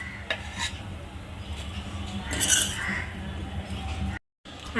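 Dry coconut, roasted reddish, is scooped out of a pan, with scattered metallic clinks and scraping of a utensil against the pan, soft and close, with a brief silent gap near the end.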